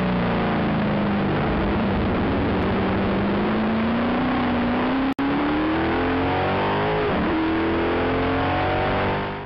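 F5000 open-wheel race cars at the Lady Wigram Trophy circuit, a loud engine roaring as it holds a rising, steady pitch and then shifts, with a brief dropout in the middle and no commentary.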